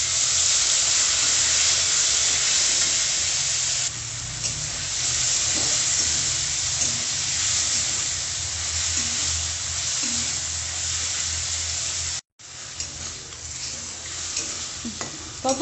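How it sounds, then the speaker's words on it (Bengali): Chicken frying in white oil in a wok, a loud steady sizzle and hiss throughout with occasional stirring scrapes, close up, briefly cutting out near the end, no talk. "তো কড়াইতে আমি সাদা তেল দিয়ে দিয়েছি। এবার আমি চিকেনগুলোকে ভেজে নেব।"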